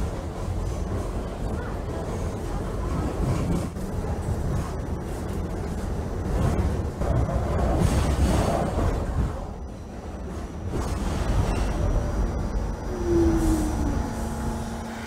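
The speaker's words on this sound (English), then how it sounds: "N train to Manhattan making local stops." An N subway train in a Trainz Simulator 2012 game rolls along with a steady low rumble of wheels and motors, swelling and easing, with a brief high squeal near the end.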